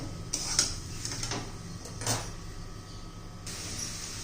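A spoon stirs a sweet coconut and sugar mixture, making faint scraping and clinking against the pan over a low background hiss, with a couple of sharper taps.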